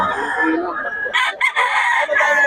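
Rooster crowing at a chicken market in Bocaue, a bright harmonic call rising over a busy background, with someone talking nearby amid market chatter.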